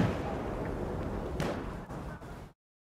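A mortar fires in the Battlefield 1 video game, a loud, rumbling, close blast that swells and decays over a couple of seconds before cutting off abruptly.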